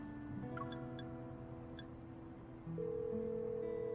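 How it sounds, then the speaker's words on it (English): An unanswered outgoing call in the Love and Deepspace video game, placed to Caleb, produces steady electronic ringing tones that repeat as a quiet, even line signal, with a faint background hum and no speech. "I try calling Caleb, but he doesn't answer the phone after 2 rings"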